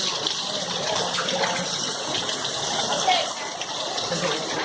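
A waterfall in a big open area of a Sonoran Desert wildlife exhibit gives a steady, even rush of falling water. It runs unbroken for the whole stretch at moderate loudness.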